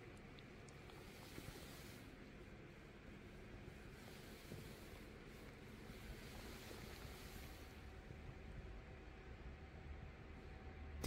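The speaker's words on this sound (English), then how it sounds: "That whooshing noise is the River Fleet." Steady broadband whooshing rush of the underground River Fleet, heard inside the Church of St Dunstan's in the West on Fleet Street, London, a continuous even wash of water-like noise with no break throughout.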